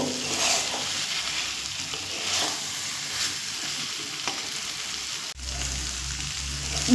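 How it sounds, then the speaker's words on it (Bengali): Pre-fried potatoes and soybeans sizzling with spices in a pan, a loud steady hiss with occasional stirring scrapes and a brief clunk near the end. "আগে থেকে ভেজে রাখা আলু আর সয়াবিনগুলো দিয়ে আবারও এক থেকে দু মিনিট মশলার সঙ্গে আমি কষিয়ে নেব"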